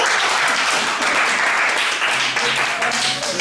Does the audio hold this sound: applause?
yes